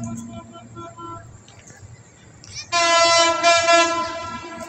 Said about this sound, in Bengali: আর দেখেন ট্রেন আসতেছে